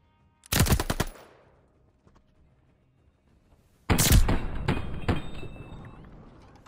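Video game gunfire from Call of Duty Vanguard: a sharp, loud burst of rapid automatic shots, then about three seconds of near quiet, then a second, longer sustained volley of rapid fire that gradually tails off.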